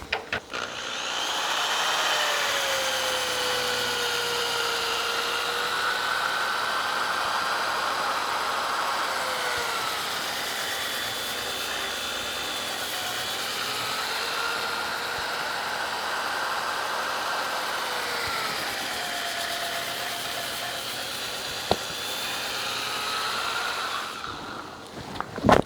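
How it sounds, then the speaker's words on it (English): A spinning power sanding disc works the inside and undercut rim of a wooden bowl, a steady, continuous whir with a rising and falling pitch as pressure changes, running close and unbroken for the whole span. "So now let's sand the inside of the bowl."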